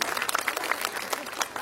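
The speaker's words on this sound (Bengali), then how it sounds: "একটা খুব জোর করতালি জয়তীর জন্য হোক" A brief burst of dense audience clapping for the reciter Joyoti at a Bengali recitation event, continuous and moderately loud throughout.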